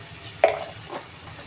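A spice paste with salt and turmeric is stir-fried in a pan, giving a soft, steady sizzle with one sharp scrape or clink of a utensil followed by a fainter stir.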